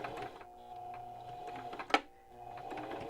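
A sewing machine back stitching through the fabric of a homemade face mask, running with a steady mechanical whir and one brief sharp click partway through, with no talking.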